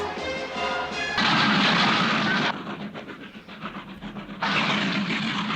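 A train in a film, loud hissing steam bursts and rumbling rail noise that swell, drop briefly, then roar again, without voices.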